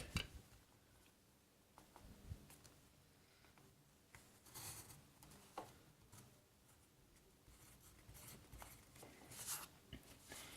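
A pencil drawn along a T-square and set square to rule vertical lines on a drafting sheet, making faint, soft scratching strokes in short bursts with quiet pauses between them.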